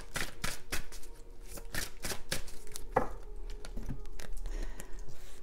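An oracle deck of the spiritual-path kind being shuffled by hand: steady, crisp riffling and flicking of cards close up, repeating in quick rhythmic strokes for several seconds with no talking.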